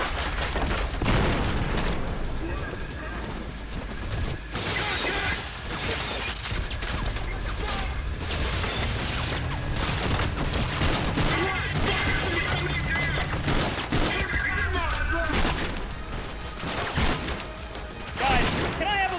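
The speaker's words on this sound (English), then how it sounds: "Contact! Suppressor fire!" Gunfire in the video game Trepang2, with dense volleys, crashes and impacts rolling through a chaotic firefight, close and loud, with voices talking over the shooting.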